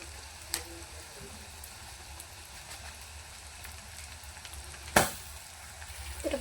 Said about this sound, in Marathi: हे चांगलं तेलामध्ये मिरच्या आणि काळा मसाला फ्राय करून घेऊया